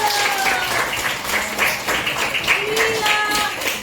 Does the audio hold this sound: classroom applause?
yes